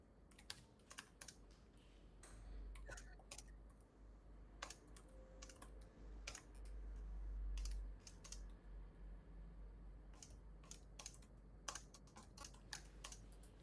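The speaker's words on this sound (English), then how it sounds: "I hear you digiting on the keyboard." Rapid keystrokes on a computer keyboard clatter in irregular bursts throughout, fairly close and clear over a low background hum, with no talking.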